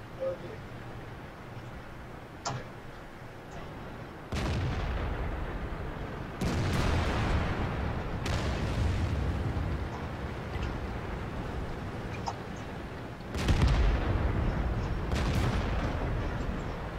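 Tank cannon fire and explosions in World of Tanks, sharp loud gun blasts at irregular intervals with rumbling battle noise and a couple of fainter distant shots between them.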